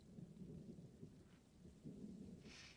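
A low, rolling thunder rumble in Morrowind runs faint and distant under soft rainfall, swelling and fading in the background with no speech.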